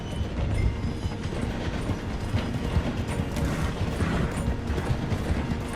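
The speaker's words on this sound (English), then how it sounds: "The train is slowing down to go through the station." Train in Red Dead Redemption 2 slowing as it passes through a station: a steady, loud rumble of wheels and rattling mechanical clatter runs throughout, with no talk.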